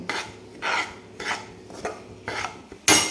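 A spoon scrapes and stirs modak filling as it sautés in a pan over low heat, giving a few rhythmic bursts of rasping and clinking with a sharper clatter at the end, and no voices.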